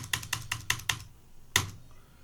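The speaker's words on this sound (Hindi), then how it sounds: "फिर एंटर प्रेस कर देना है" Keys clack on a computer keyboard during accounting data entry, five quick evenly spaced taps followed by a pause and one sharper final press, close and alone.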